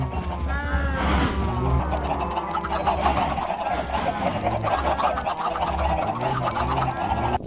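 Chickens in the Minecraft video game, with repeated clucking and honking calls layered over one another in a steady, busy stream throughout.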